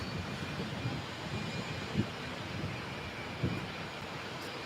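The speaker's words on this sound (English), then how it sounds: "this is the TUI Dreamliner going to Cancun" A TUI Boeing 787-8 Dreamliner airliner at Birmingham Airport gives a steady, distant broadband roar of jet engines, with a few faint knocks over the continuous rumble.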